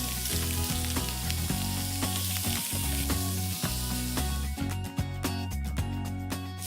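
Western rock lobster pieces sizzling in butter in a pan, loud and continuous frying crackle over a low steady hum, with a few clattering knocks as pieces are moved and no talking.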